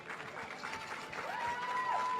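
Crowd applause in a large venue at the Miss Universe 2017 semifinal at Planet Hollywood Resort and Casino, a steady, moderately distant wash of clapping with a sustained musical tone rising over it.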